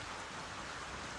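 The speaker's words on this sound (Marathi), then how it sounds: "पाऊस येतोय आज पण नेमका." Rain falls steadily outside at night, a dense, even hiss with no breaks and nothing standing out.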